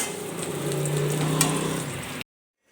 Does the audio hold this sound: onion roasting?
yes